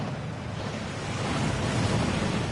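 Rushing waterfall in the Hogwarts Legacy video game, a dense, steady roar of falling water that swells slightly louder toward the end, heard alone without voices.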